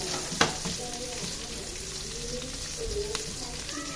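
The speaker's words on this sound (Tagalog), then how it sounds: "Gisa-gisa lang muna ako dito." Onion and garlic sauté together in oil in a pan, a steady close sizzle with occasional spoon scrapes and stirring clatter, for pork ribs calderita.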